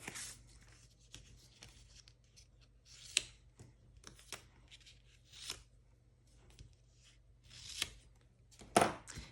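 Scissors snipping through paper strips for a card-making project, a series of quiet, brief crisp cuts and rustles spaced irregularly in a still room.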